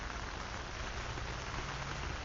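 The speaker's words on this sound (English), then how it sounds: "He knew it was going to rain." Rain falls steadily at a fishing lake, a dense, even wash of drops pattering without pause at low, constant loudness and with no voices.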